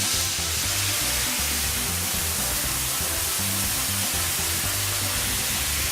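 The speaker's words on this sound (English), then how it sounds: "going in with the teriyaki sauce, it's going to sizzle a lot and it's going to be really loud" Teriyaki sauce hitting a hot non-stick pan with chicken gives a loud, steady, hissing sizzle that holds without a break, bright and noisy throughout.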